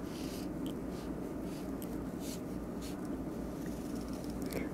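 Dry brush or pen strokes scratch softly across good-quality Chinese painting paper in a quiet room, faint brushing sounds repeating over a low background hiss.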